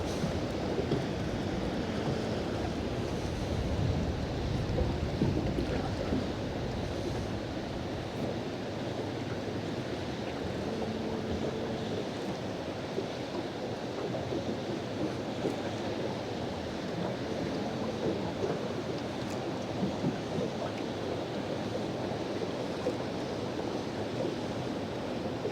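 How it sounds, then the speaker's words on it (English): Steady broadband wind rush at the water's edge while fishing, a continuous breezy roar with mild gusting and no voices, filling the whole stretch at an even level. "It's kind of gusty."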